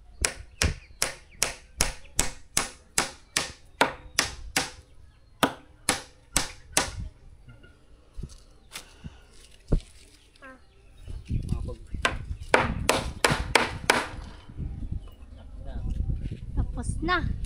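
Hammering while building a half basketball court, a fast run of sharp, evenly spaced strikes, then scattered blows with clattering and background noise.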